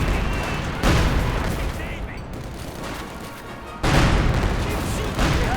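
Gunfire and artillery booms from a Company of Heroes 2 battle between German Pak 43 and Panzer forces and Russian armor, dense overlapping bursts throughout, swelling loudly near the start and again toward the end under a game caster's commentary.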